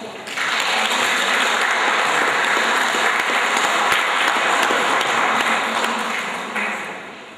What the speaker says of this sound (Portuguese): Molim aplauz.